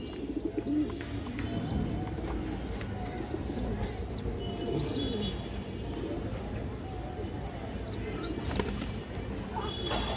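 Low coos from a flock of domestic pigeons continue under a man's speech, with scattered high chirps, a brief flutter of wings and steady background noise.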